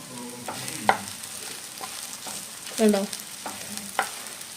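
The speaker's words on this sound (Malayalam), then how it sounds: "വെച്ചതിന് ശേഷം ഇളക്കി കൊടുക്കുക." Okra stir fry, vendakka mezhukkupuratti, sizzles softly in a pan while a utensil scrapes and stirs it in several separate strokes, with a brief spoken word.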